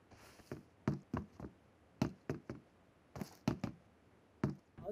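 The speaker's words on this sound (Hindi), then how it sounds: "यहाँ पर कुछ ऐसी जैसे कुछ लकड़ी पे पैर रखने की जैसी कुछ आवाज आएगी" Footsteps on the wooden planks of a shipping container in PUBG, a series of sharp hollow knocks in an uneven walking rhythm, close and fairly loud over a faint background hiss.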